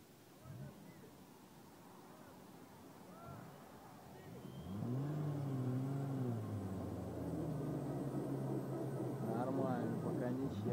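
A UAZ Patriot with a 2.3 diesel and an old Land Rover with a 4.2 diesel strain in a tug of war. Low engine rumble swells midway into loud, wavering revs while people talk nearby.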